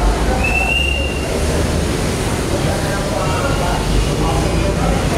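Manila MRT metro train rumbling steadily with broadband rail noise throughout, a brief high wheel squeal early on, with crowd murmur in the background.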